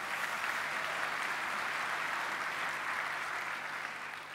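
A conference audience claps in a sustained, dense burst of applause that holds steady, then begins to taper toward the end.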